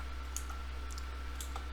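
A few soft, light key clicks come from a computer keyboard as a command is typed into a Debian terminal, sparse and close over a steady low electrical hum.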